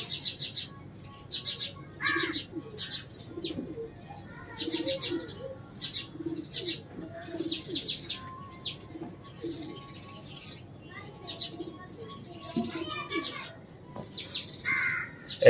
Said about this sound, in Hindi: ये बॉर्डर वाले कलंज कबूतर है